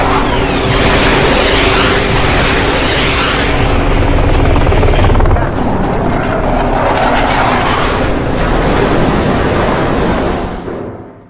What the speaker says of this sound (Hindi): हेलीकॉप्टर वहां पहुंचा ईरान के जहाज के ऊपर।